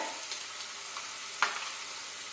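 Pumpkin pieces and chana dal frying in hot oil, a dense continuous sizzle with occasional soft stirring scrapes and one sharper clatter near the end.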